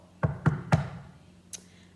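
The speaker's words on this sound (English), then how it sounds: "She knocked on the door" Three firm knocks on a door, evenly spaced and close by, followed by a single faint tap; no voices.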